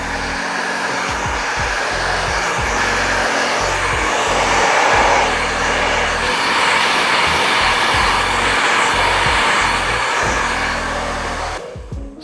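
A 5S barber hair dryer blowing continuously at close range, a loud steady whooshing roar with slight shifts as it is moved over hair in a barbershop, cutting off near the end.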